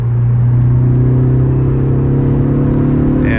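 A 2013 Ford Focus ST3 cruises on a freeway with a steady low engine hum and road rumble inside the cabin, constant and loud with no talking.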